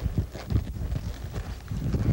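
Hooves of a horse being ridden under saddle clop in a steady, muffled rhythm across ground, with low thudding steps over continuous background rumble.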